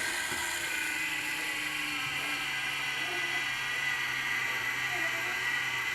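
A small motor drives a 3D printer filament spooling module with a steady high-pitched mechanical whine and faint ratcheting, gear-like texture running continuously and close by.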